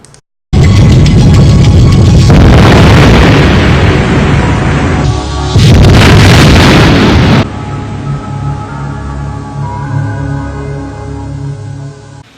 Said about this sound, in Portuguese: Então agora vamos ver na sequência essa mesma explosão com som.